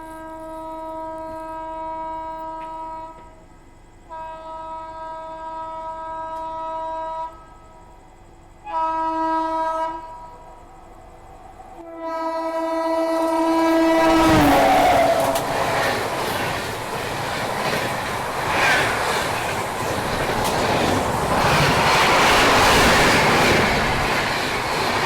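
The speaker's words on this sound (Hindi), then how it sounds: "तो ये निकली सेंट्रल रेलवेज़ की राजधानी एक्सप्रेस" Central Railways Rajdhani Express overtaking on an Indian line, with long two-tone horn blasts repeated several times before the train roars past close by, rumbling and clattering loudly for the rest of the clip.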